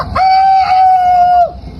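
A human voice imitates a rooster's crow: one drawn-out, steady, whistle-like call held for over a second, loud and close, with no other sound around it.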